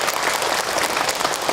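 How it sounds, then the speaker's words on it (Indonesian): A crowd at a religious lecture and Q&A claps for the preacher, a continuous, even wash of many hands at moderate loudness with no voices on top. "Tepuk tangan untuk Kak Hilman."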